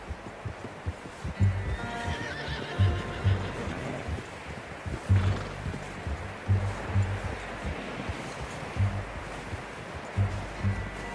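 A horse in the Red Dead Redemption 2 game neighs and snorts with whinnying bursts, over low rhythmic thuds and a wash of ambient noise.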